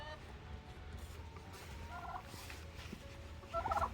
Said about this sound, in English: we've got some other mix of our white big-breasted turkeys